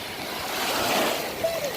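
Ocean waves wash up a beach toward a small dug-out hollow by sand castles, giving a steady mid-level surf hiss with a gentle swell near the middle and wind noise on the microphone.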